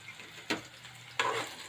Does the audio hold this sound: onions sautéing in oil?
yes